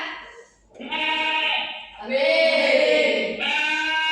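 A recorded goat bleats in long, wavering, nasal calls, three drawn-out bleats in a row, loud and close, played back in a classroom lesson with no talking over it.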